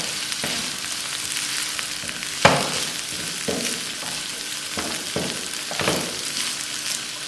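Peas and onion fry in a pan for samosa filling, a steady close sizzle punctuated by several louder bursts and scraping stirs, with no voices.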